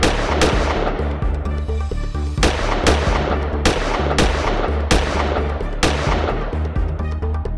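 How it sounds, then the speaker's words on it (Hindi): Many loud gunshots from about 30 rounds fired at a showroom crack out in an irregular series, sharp bursts spaced a second or so apart, echoing against a steady background rumble. "करीब 5 मिनट के अंदर हथियारबंद बदमाशों ने करीब 30 राउंड फायरिंग कर दी।"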